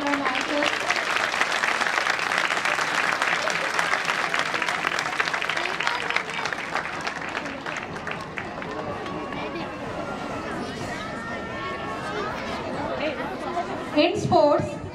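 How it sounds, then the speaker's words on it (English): A crowd at an annual school sports day with a march past applauds, steady clapping mixed with chatter and movement, thinning out later as scattered voices and footsteps continue. "Let us give a huge round of applause for our master."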